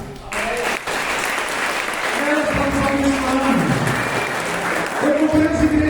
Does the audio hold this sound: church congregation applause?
yes